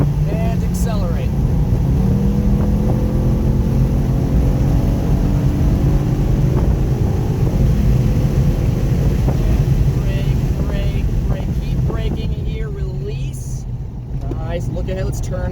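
A car accelerating hard on a race track during a track day, its engine note climbing steadily and loud with wind buffeting the microphone, while an instructor's voice talks over it.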